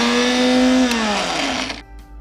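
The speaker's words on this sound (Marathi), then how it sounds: "मी आता हे मिक्सरला फिरून घेते." A kitchen mixer grinder whirs loudly while grinding radish curry ingredients with soaked chillies, a steady motor whine that slowly drops in pitch before stopping abruptly near the end.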